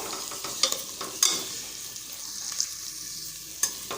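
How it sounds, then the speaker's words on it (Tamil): Onions sautéing in a pan for a South Indian side dish, a steady soft sizzle with occasional sharp clicks of a spoon stirring, close and alone without talk. "வெங்காயம் லேசாக கலர் மாதிரி வதங்கி வரட்டும்"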